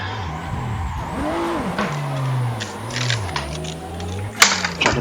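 Toyota Supra in the Death Wish Garage racing game, engine droning with pitch swings as the rear steps out, light tire scrub and a sharp knock near the end, fairly close and steady without speech.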